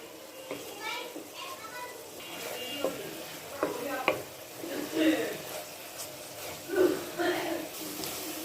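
Grated coconut and jaggery filling for Bangladeshi puli pitha cooks down in a pan with a soft sizzle, stirred in irregular scraping strokes close by, with faint voices in the background.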